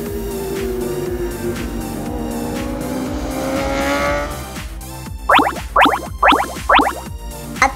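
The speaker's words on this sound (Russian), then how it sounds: "Смотрите, это мотоцикл." An engine drones and rises in pitch as it revs, then gives way to a series of short, sharp bursts and pops.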